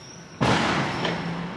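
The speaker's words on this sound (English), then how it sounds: "I think it was some fireworks or something" A single sharp firework bang bursts outside, then a loud crackling rumble fades over about a second, heard alone without voices.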